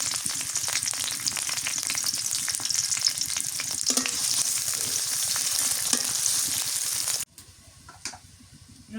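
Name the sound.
onions and whole spices frying in a pan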